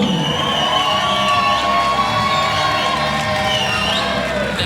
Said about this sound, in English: That is a round of applause if I've ever seen one.